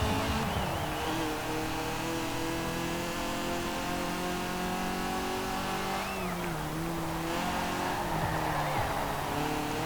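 Modified car engine in the Forza Horizon 4 racing game, a sporty steady drone with shifting pitch and occasional tire squeal, loud and continuous throughout with no talk.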